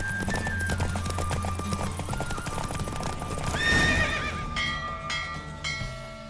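A horse gallops in a race in the video game The Witcher 3, its rhythmic hoofbeats close and continuous under a musical score, with a whinny partway through.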